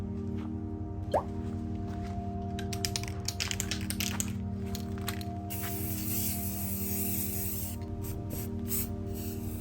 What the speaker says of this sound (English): For the spatter effect, I held down the nozzle part way.